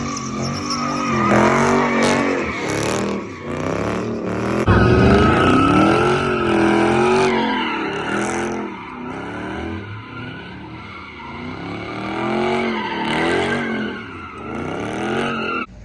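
Dodge Charger RT with one rear wheel spinning in a burnout, a loud sustained roar of engine and screeching tire that surges and wavers throughout, close by.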